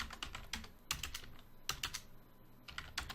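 Fingers type on a computer keyboard in quick, irregular bursts of close, crisp key clicks, broken by short pauses, with no voices.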